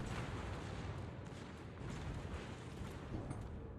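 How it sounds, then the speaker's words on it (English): Heavy naval gunfire in World of Warships, with the Ohio battleship's guns booming in a dense, continuous low rumble of overlapping blasts throughout, loud and close with no pauses. "still firing his guns at him"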